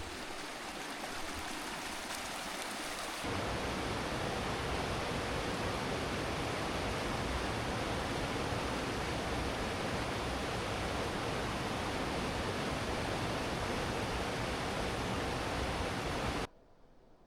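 Glacier meltwater stream rushing along a trail on a Kanchenjunga trek in Nepal, a steady broadband roar that swells louder after a few seconds and then cuts off abruptly near the end, with no talk over it.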